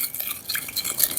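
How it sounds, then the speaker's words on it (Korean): Minced garlic and salt are mixed into a cold bean sprout salad, with soft, quick stirring and light clinks and scrapes against the bowl, close and brief. "마늘 다진 것도 넣어주시고 소금으로 간을 살짝 해주세요. 골고루 섞어주시면 됩니다."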